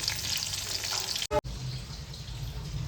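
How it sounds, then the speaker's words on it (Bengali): Bhetki-style small fish fry in a pan, making a soft, steady frying hiss that stops briefly around the middle before resuming; no voices are heard. "মাছগুলো ভেজে নিচ্ছি এটা হলো ভাজনা মাছ"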